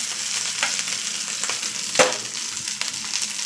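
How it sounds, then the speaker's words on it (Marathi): Steady frying sizzle of rice with crackling cumin seeds, a sharp loud crack near the middle and scattered smaller spits, no talking. "आता जिरं तडतडले. त्याच्यावर मी भात घालते."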